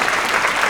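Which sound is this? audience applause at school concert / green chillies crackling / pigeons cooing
audience applause at school concert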